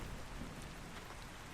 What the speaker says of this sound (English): This rain, look at this ground is wet.